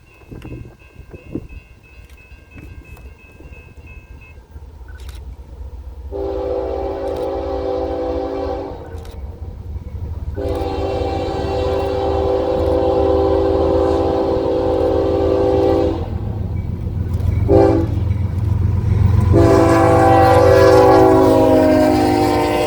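A Norfolk Southern NS 362 eastbound freight train approaches near Hillsboro, Alabama, sounding several long horn blasts over a rising rumble of engines and wagons, which grows loud and close by the end.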